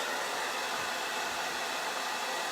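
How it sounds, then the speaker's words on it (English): A hair dryer blows over a craft pallet heart coated with Mod Podge, a steady, even whoosh of airflow running unbroken and fairly loud with no talking. "I'm going to take the hairdryer to it"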